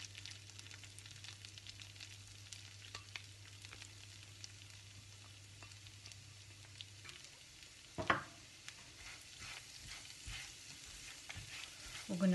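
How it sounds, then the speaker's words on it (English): Carrots frying in a pan give a soft, even sizzle that stays close and quiet throughout, with a low hum under the first half and a brief clatter of stirring near the middle. "We're gonna fry them for about 10 minutes"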